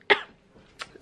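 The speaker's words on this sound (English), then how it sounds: "I did a massive cough there" A single loud, sharp cough from a woman close by, followed by a fainter second burst a moment later, with no talking.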